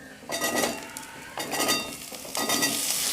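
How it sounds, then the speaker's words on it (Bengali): Chopped pumpkin tipped into onions frying in a pan, three bursts of loud sizzling with clattering spoon-on-pan scrapes as the pieces are stirred in. "এবার এর মধ্যে কুচিয়ে রাখা কুমড়োগুলো দিয়ে দিচ্ছি"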